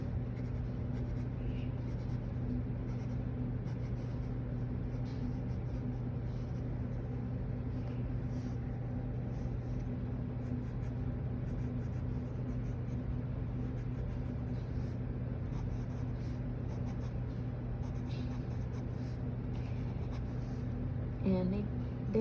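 A colored pencil scratches and strokes across paper in a continuous soft scraping, quiet and close, layered over a steady low hum of background noise.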